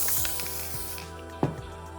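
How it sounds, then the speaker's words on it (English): Short bursts of aerosol dry adhesive spray hiss from a can nearby, one long spray followed by a brief sharp puff. "we're just spraying some type of dry adhesive spray"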